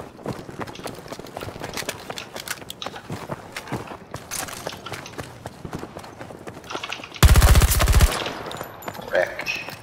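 Battlefield 2042 gameplay with rapid gunfire: trains of sharp shots crackle throughout, topped by one dense, loud automatic burst near the end.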